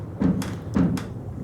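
The door of a 1929 Chrysler swings shut with a little force, giving two solid, close thuds of metal against the latch about half a second apart, each ending in a short rattle.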